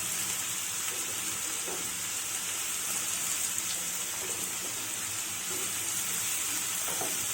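Chana dal, ridge gourd and drumstick pieces sizzle and fry steadily in a pan, a continuous bright crackle with a few soft stirring scrapes, close and alone.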